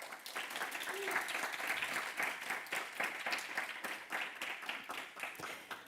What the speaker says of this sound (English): one final round of applause for the 4 presenters this morning